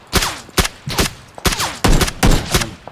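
Gunfire in the video game Battlegrounds (PUBG), a series of loud, close, sharp shots fired in quick irregular bursts with short gaps between them.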